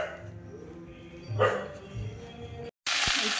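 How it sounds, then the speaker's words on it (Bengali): A dog barks a few times at a distance downstairs in a home, short muffled yips and woofs against a quiet household background, followed by a brief cutoff. "ওই যে ঘেউ ঘেউ করছে"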